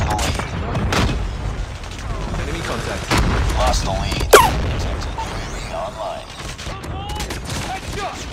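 Gunfire in a first-person shooter game: repeated loud shots and booming blasts over a rumbling battle bed, one sharp crack standing out midway, with a voice talking throughout.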